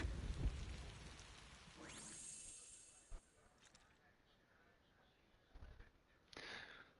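Steady rainfall with a low thunder rumble, played as a sound effect in a spoken audio story, dense hiss fading after a few seconds with a few brief crackling bursts near the end.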